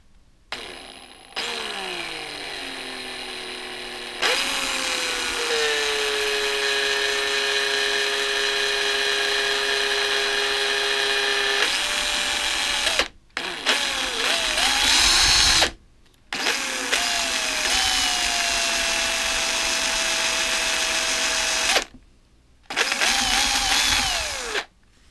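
A power drill whines loudly in several long runs, its pitch dipping under load, with short pauses between bursts.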